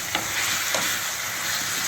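Potato and cauliflower curry with ginger-garlic paste fries loudly in a pan, a dense close sizzle broken by a few quick spoon strokes as it is stirred.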